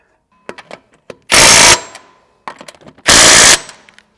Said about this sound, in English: slide your tire over the studs and install 3 of the 1/2-inch 20 lug nuts